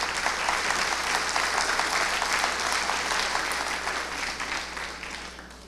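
Strong, steady applause from a conference audience greeting the panelists at a civil service integrity panel, dense clapping sustained throughout and easing slightly toward the end, with no talk over it.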